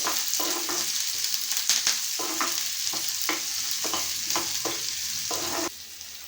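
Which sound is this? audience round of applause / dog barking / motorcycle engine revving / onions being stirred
onions being stirred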